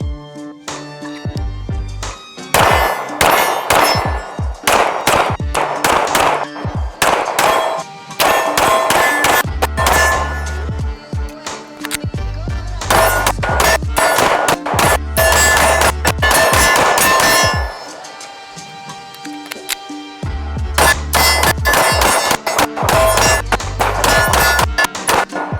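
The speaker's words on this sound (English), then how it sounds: "So let's do some combat shooting with it" Staccato C2 DUO 9mm 2011 pistol fired in combat drills, loud sharp shots in rapid strings and pairs separated by short pauses, each ringing with metallic echo.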